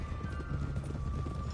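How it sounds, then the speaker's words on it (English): Horse hooves clip-clop steadily at a walking pace in a video game, a soft continuous clatter under a low ambient hum. "Get a hold of that horse, Arthur."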